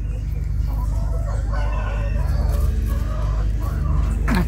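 Chickens cluck and a rooster crows in a busy farmyard, the bird calls layered over a steady low hum and general background noise, fairly close, with a little indistinct talk.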